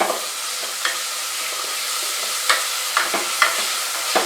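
Ingredients with salt stirred in a hot pan for Malabar beef rice, a steady sizzle with occasional scraping spoon taps at irregular intervals.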